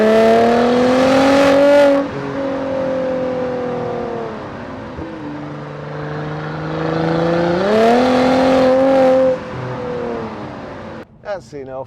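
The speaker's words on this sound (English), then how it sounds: "I might just cut that bit of exhaust noise in." A 2016 Mercedes-AMG C43 4MATIC with a 3.0-litre engine and automatic paddle-shift gearbox, its exhaust rising and falling through two strong accelerating revs with gear changes, heard loud from inside the car.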